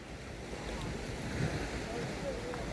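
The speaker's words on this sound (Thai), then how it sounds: "สียงลมเสียงคลื่นนะครับผม" Steady wind rushing over the microphone with sea waves washing in the background at Hua Hin, a constant roar with low rumbles and no distinct voices.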